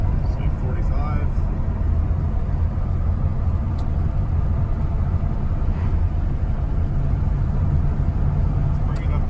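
A 1941 Mercury car cruising along a road at around 45 mph, steady low engine and road rumble with wind noise throughout, recorded from inside the car.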